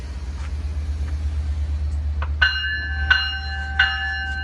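Long Island Rail Road train departing Kings Park station, a low steady engine rumble with a few sharp tonal horn or bell blasts near the end, fairly close.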